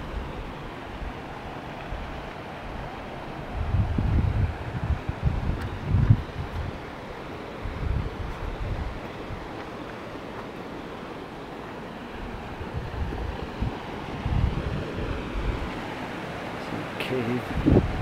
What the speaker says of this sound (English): you can hear the river running under the boulder field here in the rocks